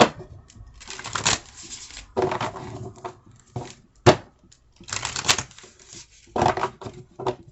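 Oracle cards are shuffled several times in quick riffling bursts, close and crisp, with short pauses between each shuffle and no talking.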